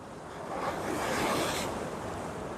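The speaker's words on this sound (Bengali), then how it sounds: "পানি আছড়ে পড়ছে" Sea waves breaking on Patenga beach in Chittagong on a sunny day, a single broad wash of surf swelling and fading with some wind rumble, no voices.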